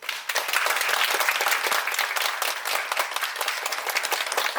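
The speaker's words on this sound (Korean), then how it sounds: "뜨거운 박수로 맞아주시면 감사하겠습니다." A theatre audience at a stage play claps warmly as a performer enters: thick, sustained applause from a full house, even and continuous with scattered individual claps standing out.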